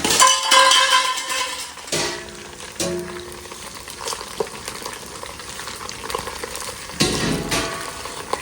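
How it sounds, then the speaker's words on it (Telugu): Onions tossed into a pan of sizzling spicy mutton boti fry, with a loud hiss at first, then steady frying crackle broken by stirring clinks and scrapes, and another sharp surge of sizzle toward the end. "దీంట్లో మనం ఉల్లిపాయ అనేది వేసుకోవాలి."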